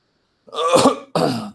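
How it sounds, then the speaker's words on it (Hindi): A single rough cough, then a brief second burst, close and fairly loud against silence. "अरे खांसी तो हो रही है"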